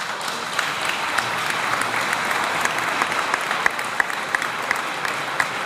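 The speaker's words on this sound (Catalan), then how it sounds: "Si insistiu en aplaudir" An audience at a commemorative tribute event claps steadily through the whole stretch, a dense, even wash of many hands with a few sharper individual claps, no voices on top.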